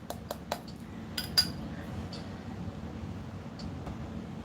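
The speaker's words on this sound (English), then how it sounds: "Glass with the bamboo top." Glass cups with bamboo tops are handled indoors, giving a few sharp clinks and taps early on, then fainter knocks over a quiet room hum.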